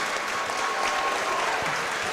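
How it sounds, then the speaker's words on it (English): Crowd applause at a high school basketball game, a steady, dense wash of clapping and cheering in a gym lasting about two seconds. "Coach Casey Huff applauding his efforts."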